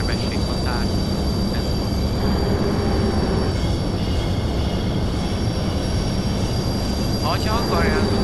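Budapest M1 metro train arriving at the Vörösmarty tér terminus in the OpenBVE train simulator, with a steady loud rolling rumble and a few high wheel squeals near the start and end.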